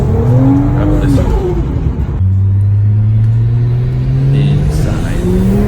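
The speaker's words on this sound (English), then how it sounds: "The exhaust I put on it sounded mean. I mean, it even sounded like a V8 in my opinion" A tuned 600-horsepower sports car with an aftermarket exhaust revs loud and close, a deep rumbling note rising and falling through throttle blips, with voices heard under it.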